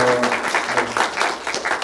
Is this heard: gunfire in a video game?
no